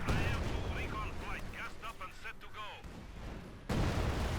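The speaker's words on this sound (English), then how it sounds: "Artillery now hitting the building" Artillery shelling a building in the video game Company of Heroes 2, with booming impacts and crackling battle noise under a narrating voice, then a sudden loud blast near the end.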